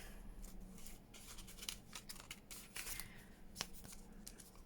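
Scissors snip through paper in a quick, irregular series of close, crisp cuts with rustling in between while pages are prepared for an altered-book botanical junk journal spread, with no talking.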